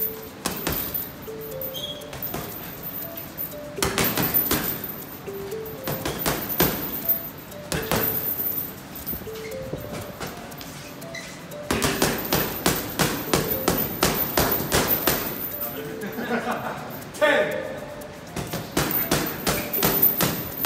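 Rapid bursts of punches thud against a heavy bag in quick flurries, separated by short pauses, with sharp percussive strikes throughout.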